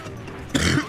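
A single harsh cough bursts out after a stretch of quiet room noise, close and fairly loud.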